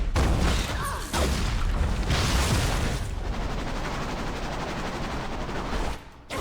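Rogue's melee ability rotation in the game Marvel Heroes Omega: loud, dense bursts of impacts and explosive booms layered into a continuous roar of combat effects, with a brief dip near the end.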